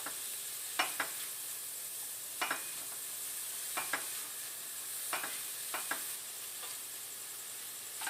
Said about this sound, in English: So just give it like a minute or so until these mushrooms start reducing in size and getting nice and sweated down.